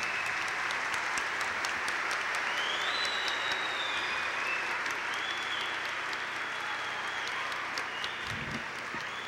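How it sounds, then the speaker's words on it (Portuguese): A crowd applauds the graduates at a 1993 school graduation ceremony, a dense, sustained wash of clapping that stays fairly even throughout, with a brief low voice near the end. "uma salva de palmas para os formandos"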